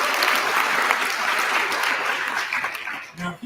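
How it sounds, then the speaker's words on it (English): A large audience at a main-stage talk applauds steadily, a dense wash of clapping that holds strong for about three seconds before thinning out near the end. "I think that deserves a little more applause than that,"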